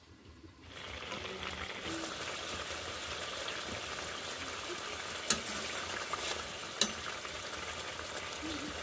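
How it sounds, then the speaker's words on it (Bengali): Hilsa fish curry bubbles and sizzles steadily in a covered pan, a continuous close hiss with a couple of sharp pops, starting a second in after a quieter moment. "এখন আমি তরকারিটা অল্প একটু ঢাকা দিয়ে আর একটু ফুটিয়ে নেব"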